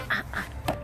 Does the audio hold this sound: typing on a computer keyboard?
no